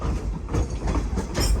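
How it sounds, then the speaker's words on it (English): A private luxury train rolls along rails through Sedona's red rock country, giving a steady low rumble with soft rhythmic clacks and rattles heard from inside the car, no voices. "I'm riding the rails, y'all."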